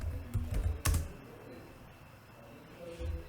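Keys clack on a computer keyboard in a short, close burst of typing, a few firmer keystrokes standing out against quiet room tone.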